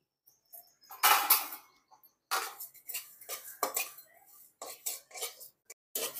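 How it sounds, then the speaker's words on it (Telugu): Cinnamon, cloves, coriander seeds and poppy seeds are dry-roasted in a pan, with a spatula scraping and clinking against the metal in irregular bursts separated by short silences, close and fairly crisp. "ఒక బాండి పెట్టుకొని అందులో చెక్క, లవంగ, ధనియాలు, గసగసాలండి అవన్నీ దోరగా వేయించుకోవాలి"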